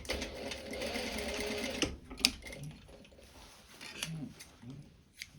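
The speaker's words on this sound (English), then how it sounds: "We put the zipper foot on and we just need to stitch along that facing there." A sewing machine fitted with a zipper foot stitches a neck facing beside a zip, running in a quick steady whir for about two seconds, then stopping, followed by quiet clicks and handling sounds.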